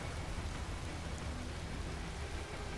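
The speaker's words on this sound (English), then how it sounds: "Does it rain this much in Denver?" Steady, dense rain in Metal Gear Rising: Revengeance, a constant soft hiss with a low rumbling undertone that does not change through the whole short stretch.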